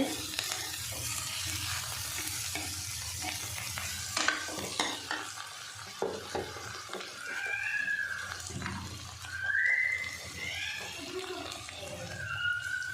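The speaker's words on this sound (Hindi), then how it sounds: "हरिया मिर्चा पा के भी थोड़ी देर असं फ्राई करा" Guar bean pods fry with green chilies in a pan, giving a low sizzle with scraping stir strokes and occasional clinks, while a person talks intermittently over it.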